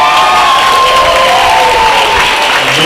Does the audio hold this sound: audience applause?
yes